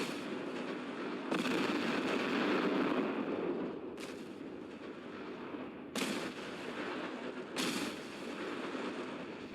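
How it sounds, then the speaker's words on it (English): Fireworks go off in the video game Fallout 4, a series of loud booms and crackling bursts spaced a couple of seconds apart over a dense, rumbling background. "we get some fireworks to commemorate"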